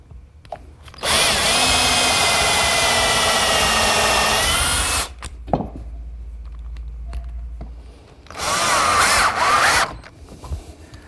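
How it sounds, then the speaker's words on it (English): A power drill pre-drills holes and drives screws into wood in a workshop: one long loud whirring run, a pause with small clicks, then a second shorter burst close to the microphone. "pre-drill some holes,"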